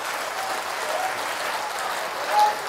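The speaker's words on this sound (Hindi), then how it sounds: "आनंद होता है हाथ उठा के ताली बजाइए" An audience at a spiritual darbar gathering at Pandokhar Sarkar Dham bursts into sustained, thick applause, many hands clapping together and swelling briefly louder near the end.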